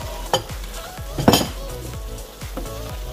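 A spoon stirs a zucchini and ham mixture thickened with cornstarch in a pan, giving a few distinct clinks against the metal amid soft scraping and a faint sizzle, close and moderately loud.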